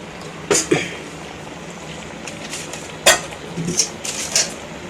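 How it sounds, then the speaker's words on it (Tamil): A utensil stirs country chicken pieces and ground masala in a pot. Several sharp, close metallic clinks and scrapes come in irregular bursts over a quiet background. "இந்த சிக்கன் பீஸில் நம்ம அரைச்சி வச்சுருக்கிற மசாலாவை ஊற்றி நல்லா கிளறிடணும்"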